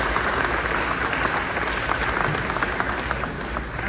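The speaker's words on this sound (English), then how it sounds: "So please give all of you a round of applause for yourselves." A room full of people applauding themselves at a 2024 chefs' event speech, dense and continuous clapping that stays loud and even throughout, with no voices over it.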